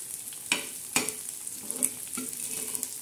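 Egg bhurji with green chilli and onion being turned and stirred in a frying pan, a few soft scraping strokes over a faint, steady sizzle, close and quiet with no talk.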